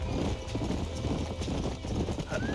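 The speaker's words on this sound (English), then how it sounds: "These are fine horses." Horses in a Western-themed video game trot with steady clip-clop hooves, a faint whinny rising briefly near the end, all heard closely over a continuous ambient bed.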